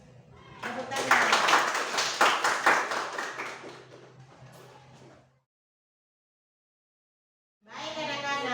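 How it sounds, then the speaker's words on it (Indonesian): A classroom of students claps together after a group presentation, a burst of dense, uneven hand claps mixed with voices, fading out into silence before talking resumes. "Tepuk tangan"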